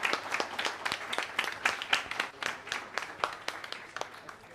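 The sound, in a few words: audience applause for quiz winners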